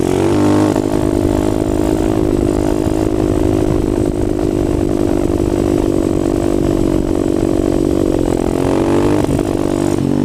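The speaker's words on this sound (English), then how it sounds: "You can literally hear me let out the throttle almost completely and just coast right there" A motorcycle engine drones steadily at a moderate pitch during a wheelie, then the throttle eases off so the tone sags and settles into a quieter, coasting hum.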